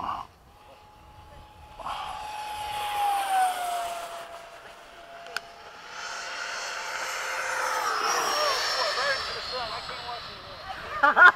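A Skysword model jet plane flies a loop over a runway, its engine whine rising and sweeping in pitch as it passes fairly close and loud, with people talking over it.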